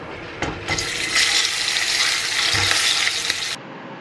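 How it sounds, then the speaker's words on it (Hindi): Fish frying one piece at a time in hot oil gives a loud, continuous crackling sizzle up close, which starts with a few pops and then cuts off abruptly near the end. "ऐसे सारे फिशेस को एक एक करके फ्राई कर लेंगे और ये फिश बहुत ज़्यादा क्रैकल करता है"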